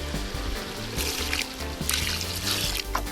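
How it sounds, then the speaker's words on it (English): Water trickles and splashes as it is poured steadily into a container, continuous and close, with some background noise. "So we add the water here now"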